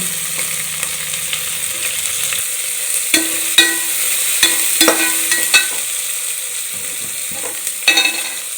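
Onions, green chilies and capsicum sizzle loudly in a hot pan for paneer biryani, with repeated sharp scrapes and clacks of a stirring spoon against the metal and no talking.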